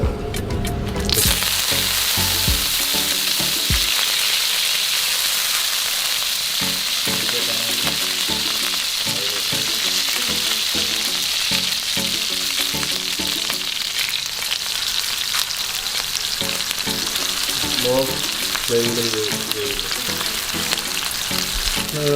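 Curry leaves and fish frying in hot oil in a clay pot, a loud, continuous crackling sizzle that starts abruptly and holds steady throughout, with occasional stirring and bubbling bursts.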